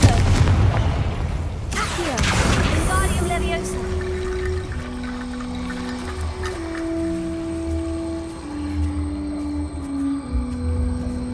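A fire-blasting Confringo spell bursts loudly in Hogwarts Legacy gameplay, a sharp explosive whoosh followed by rumbling impact and lingering tonal game music.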